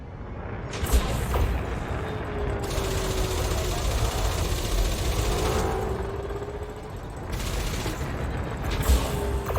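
Rapid weapon fire from multi-cannons and plasma accelerators on a ship in the space game Elite Dangerous, a dense sustained barrage of clattering mechanical shots with a few louder bursts, running continuously under game sound.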